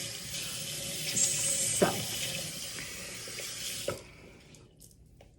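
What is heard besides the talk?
water running from a tap while washing hands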